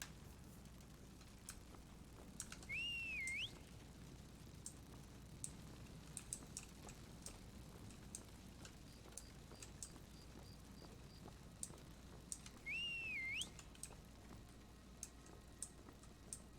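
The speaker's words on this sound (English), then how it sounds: "I'm going to use the horse whistle power to call for my horse." A rising, swooping horse-call whistle from the video game Skyrim sounds twice, well apart, over a faint ticking, clicking background.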